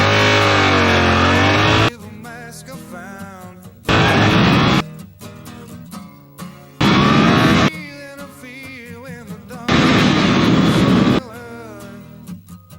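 A Suzuki GSX-8S motorcycle accelerates hard from 0 to 100, its engine screaming up through the revs in four loud bursts separated by quieter gear changes and lulls, close and dominant throughout.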